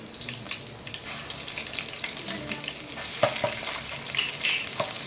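Green chillies, curry leaves and ginger-garlic paste frying in oil for a fish curry, a steady close sizzle with occasional stirring scrapes and small spatters, no voices.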